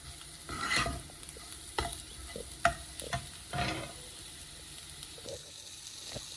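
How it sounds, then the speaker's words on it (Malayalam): Onions and spices being sautéed and stirred in a pan on medium-low flame for egg puttu: soft sizzling with scraping stirs and light knocks of a spoon at irregular intervals, fairly quiet. "ഒന്ന് വഴറ്റി കൊടുക്കുന്നുണ്ട്."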